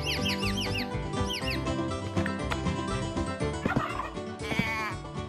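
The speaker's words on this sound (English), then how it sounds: "Trot with a turkey." Turkey gobbling sound effect from an interactive barnyard story app, several loud warbling gobble bursts in quick succession over a busy background.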